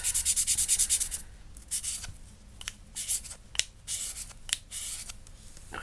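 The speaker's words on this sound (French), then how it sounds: "On la ponce." Sandpaper smooths the thin edge of a homemade scrapbook button in quick, close, bright back-and-forth rubs. The strokes come in fast even bursts at first, then in looser scattered passes, with no talking.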